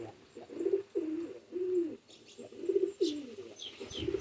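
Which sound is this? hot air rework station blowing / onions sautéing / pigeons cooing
pigeons cooing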